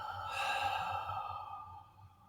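A soft, drawn-out exhale during guided meditation breathing, one long breathy sigh fading gently away, faint and close.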